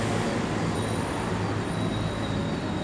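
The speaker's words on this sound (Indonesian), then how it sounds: "Ternyata kereta Citayo yang mundur" A Citayo rail lorry reverses at Garut station, giving a steady, close rumble of wheels on track with a faint high squeal over it. No one speaks.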